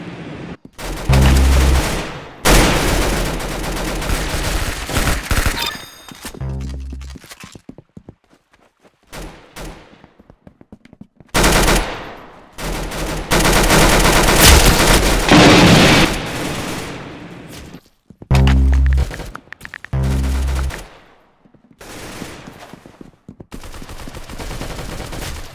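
Gunfire in the Roblox game Arsenal: loud, dense volleys of shots and booms in several bursts with brief quieter gaps, close and dominant, no voices.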